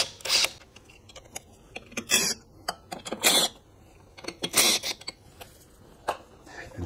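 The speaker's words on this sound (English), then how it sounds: "we will be taking off 5 10-millimeter" Bolts on a Betco FS481V buffer engine being loosened with a ratchet during valve lash work, heard as several separate bursts of metallic clicking and scraping, close and moderately loud, with quiet gaps between them and no talking.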